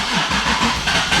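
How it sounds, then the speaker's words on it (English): A car engine turns over and settles into a warm-up, giving a short burst of rough, mid-pitched rumbling that is close and fairly loud, with no voices. "I'm gonna have to have this car warm up for a little bit"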